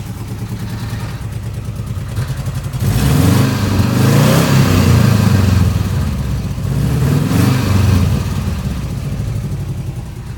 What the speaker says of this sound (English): runs so much better with the Weber